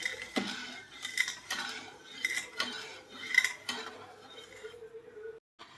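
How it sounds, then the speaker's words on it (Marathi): Sugar being stirred in a pan until it dissolves into syrup for Karachi halwa: soft, irregular scraping and clinks of a spoon on metal, fairly quiet and close, fading to near silence at the end. "हे असं साखर विरघळेपर्यंत आपल्याला हे असं ढवळून घ्यायचं आहे व्यवस्थित"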